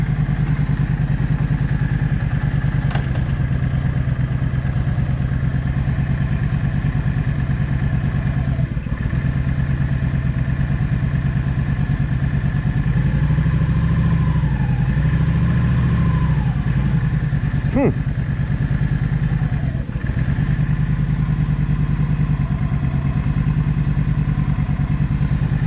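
A V Star 650 motorcycle engine runs loud and close at a steady idle while its clutch is tested, with a brief shift in the engine note midway and a few clanks over the constant hum.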